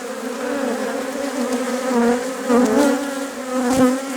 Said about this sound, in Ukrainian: Спробуємо спробуємо заселити відерочка цією бджолою.